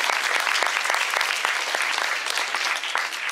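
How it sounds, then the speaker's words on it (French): An amphitheatre audience applauds a former contest winner, a dense, steady burst of clapping that stays loud and close for a few seconds with no talking over it. "Applaudissez-le, c'est l'ancien gagnant quand même."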